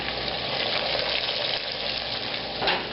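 Meatballs frying in grease in a covered pan, a steady close crackling sizzle with a soft hiss that runs without pause and swells slightly near the end.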